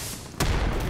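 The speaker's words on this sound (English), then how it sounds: "Oh, I heard that explosion." An explosion booms in the WWII shooter Day of Infamy during a D-Day beach assault, one sudden loud blast after a quieter stretch, its rumble filling the rest of the moment.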